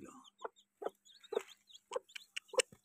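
An Aseel hen clucks in short, separate bursts, about eight or nine clucks spaced irregularly, close by against a quiet background.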